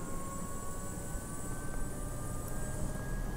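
Helicopter starting its takeoff from Teófilo Otoni airport in Minas Gerais, a steady faint rotor and turbine whine with a high tonal hum, continuous and distant-sounding, with no voices.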